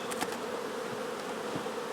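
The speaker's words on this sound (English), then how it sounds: "banging bees around kind of pisses them off" Honeybees from a Kona queen nucleus swarm in a steady, close buzzing drone while being moved into a hive body, the hum holding an even level throughout with no talk.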